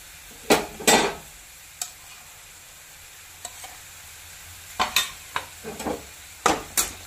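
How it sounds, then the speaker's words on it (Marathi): Intermittent scraping of a spoon stirring turmeric into a tempering pan, a few sharp clanks over a quiet background sizzle. "हळद घातल्याच्या नंतर ही हलवून घ्यायची"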